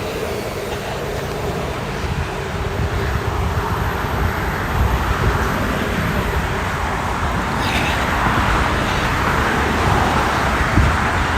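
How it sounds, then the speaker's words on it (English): Continuous road traffic noise rumbles steadily beside a running trail on a morning run toward Alexandria Old Town, a broad, fairly loud wash of passing vehicles with no talk. "You got all the traffic noise on that side."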